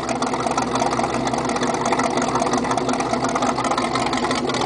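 A GMC step side truck idles with its new full exhaust, a steady, dense low rumble running unbroken and close for several seconds, with no talking over it.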